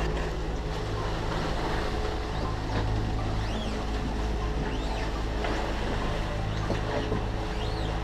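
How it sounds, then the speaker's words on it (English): A sailboat motoring at sea on one engine, a steady, droning engine hum blended with continuous water wash, with no breaks over the whole stretch. "here we are, motoring along with one engine"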